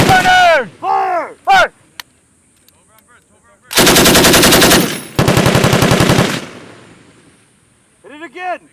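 Marines live-firing an M240 medium machine gun on a range at Camp Hansen, Okinawa, Japan: loud rapid bursts of automatic fire with short gaps between them, and shouted commands before and after the bursts.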